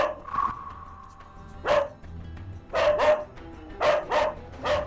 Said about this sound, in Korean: 보호자가 눈을 마주치지 않자 더욱 맹렬히 짖는